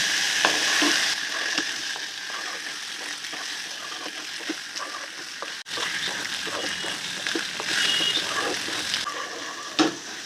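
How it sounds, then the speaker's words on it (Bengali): Spices with turmeric powder fry and sizzle steadily in a pan, a continuous hiss punctuated by soft scraping stirs throughout, fairly close and without any voices. "ওয়ান স্পুন হলুদ গুঁড়ো এইগুলো দিয়ে ভালো করে নাড়াচাড়া করবো"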